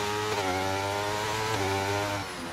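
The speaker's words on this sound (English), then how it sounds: "Can't hear things because fucking Reese has the most high-powered Mercedes engine I've heard" A high-powered Mercedes race car engine from a racing video game drones loudly and steadily at high revs, its harmonic whine shifting slightly in pitch, then easing a little toward the end.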